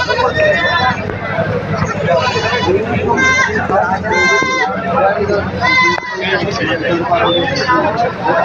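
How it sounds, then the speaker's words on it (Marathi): Several goats bleat repeatedly amid a busy crowd of chattering voices at a livestock market in Shirur, Pune district, Maharashtra, the calls close and overlapping the talk. "इकडं पण चांगल्या सुंदर शेळ्या आहेत"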